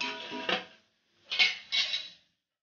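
Egg fry ingredients stirred together in a pan: three short bursts of metal spatula scraping and clattering against the pan, fairly quiet, with pauses between strokes and no talking.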